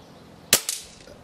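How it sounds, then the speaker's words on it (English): An Air Arms TX200 air rifle with a 22mm piston conversion fires once: a sharp, loud, close crack with a quick thud just after it, then a short fading tail. "It's definitely the nicest this gun's ever shot."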